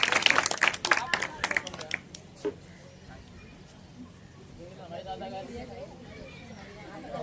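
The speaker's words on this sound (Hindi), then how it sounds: "तालियों से उनका स्वागत कीजिए।" An audience at a school Independence Day programme claps for a student singer: a burst of dense clapping that thins out and dies away after a couple of seconds, leaving a low murmur of crowd noise and voices.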